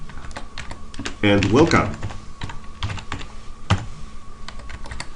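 C code is typed on a computer keyboard, producing close, rapid, irregular key clicks throughout, with a short spoken phrase over the typing partway in.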